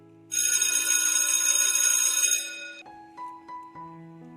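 A telephone rings in a steady, continuous electronic trill for about two seconds in a quiet indoor setting, then stops, followed by a few brief softer tones.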